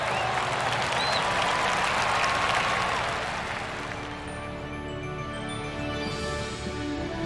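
Crowd applause rises after a golf tournament win at the St. Jude Invitational in PGA Tour 2K21, steady for about three seconds and then fading into a softer murmuring bed with faint background tones.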